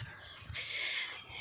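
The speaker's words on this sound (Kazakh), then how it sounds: "Міне тауықтарым сатылмай жатыр" Hens offered for sale give a hoarse, sustained cluck-like call lasting about half a second, nearby and moderately loud over a quiet background.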